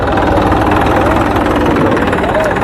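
A Massey Ferguson 244 tractor engine idles close by, a loud, steady diesel chug with a rough, vibrating low rumble under a voice.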